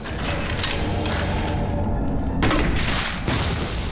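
Explosions in Resident Evil 3 Remake as a bomb hits a milky zombie, with dense, loud bursts that cut off sharply and then return in a second heavy blast.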